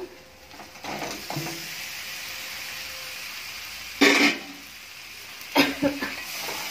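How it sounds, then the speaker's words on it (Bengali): Pointed gourd and potato go into hot spiced oil in a pan, setting off a steady close sizzle with scraping stirs and two louder bursts of frying as pieces land. "এবার আমি দিয়ে দেবো ভেজে রাখা পটল আর আলুটা।"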